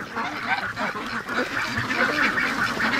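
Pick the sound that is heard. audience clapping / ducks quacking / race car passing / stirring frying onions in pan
ducks quacking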